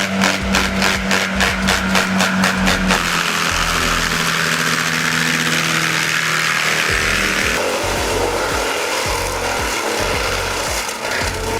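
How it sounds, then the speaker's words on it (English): A Deere 350 forestry grinder clearing land and vegetation, its engine droning steadily with loud, dense grinding and chipping of wood; a rapid rhythmic chatter opens, then continuous heavy mechanical churning with no voices. "The Deere 350 forestry grinder, with its powerful engine, is the ideal equipment for intensive vegetation control and land clearing."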